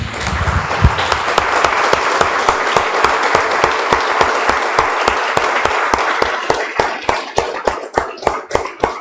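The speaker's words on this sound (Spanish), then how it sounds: "Damos un aplauso, hermanos del Señor" A church congregation applauds after a prayer, dense clapping that gradually turns into rhythmic unison claps, sharp evenly spaced beats growing more distinct toward the end.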